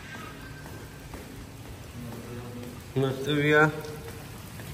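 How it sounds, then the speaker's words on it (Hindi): Steady rain falls outdoors as a broad, even hiss throughout, joined near the end by a brief burst of louder voices. "बहुत ही अच्छी बारिश हो रही है, बहुत ही अच्छी मज़ेदार।"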